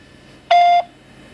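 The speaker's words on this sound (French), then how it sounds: "Veuillez laisser votre message après le bip." A single clean electronic voicemail beep, a steady tone lasting about a third of a second, loud and alone against a quiet line, signalling the start of message recording.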